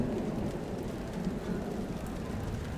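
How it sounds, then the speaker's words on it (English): Steady rain pours continuously, with a low rumble underneath like thunder far away. "You can hear some thunderstorms in the distance."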